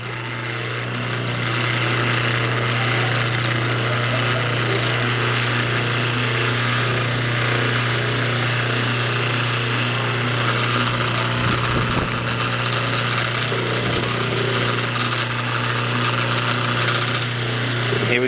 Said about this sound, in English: If you're going to use one of these motors with the wire brush on it